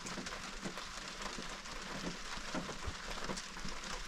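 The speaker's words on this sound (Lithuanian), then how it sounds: "Lyja, lyja, lyja." Rain falling on a boat moored in the Stockholm archipelago, a soft, steady hiss of drops on the deck and surfaces, faint and continuous with no voices.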